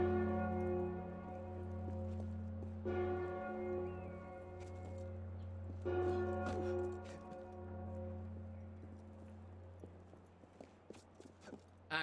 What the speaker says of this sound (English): the fact that you can hear the bell from Notre Dame